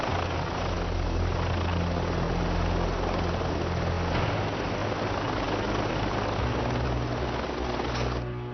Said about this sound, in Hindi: अभी हेलीकॉप्टर से उतरा है।